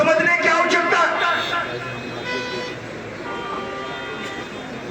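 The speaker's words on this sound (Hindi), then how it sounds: "भैया ये गाड़ी वाले हॉर्न जो दे रहे हैं वो बंद कर दे प्लीज।" Car and bus horns honk repeatedly through busy roadside traffic at a village temple gathering, sounding loud and fairly near, with crowd babble and someone speaking over them.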